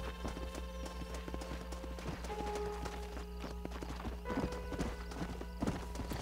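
Rhythmic clip-clop of horse hooves trotting steadily on a hard surface in the video game Red Dead Redemption, with a constant low hum in the background and no talking.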